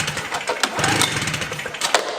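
An old Yamaha 350 motorcycle engine is pulled through, turning over in a rough, uneven churning burst that stays close and moderately loud without catching.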